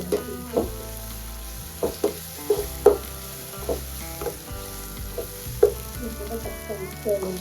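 Ginger and garlic sautéing in a pan for a Tamil gut (kudal) curry, a steady sizzle with repeated sharp scraping and stirring clicks from the spatula, close and fairly loud throughout.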